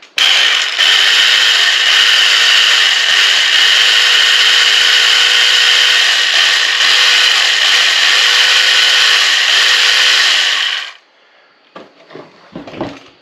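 A Wild Badger 40V cordless weed wacker with a freshly oiled blade runs at a loud, steady whine for about eleven seconds, then cuts off, leaving a few faint clatters.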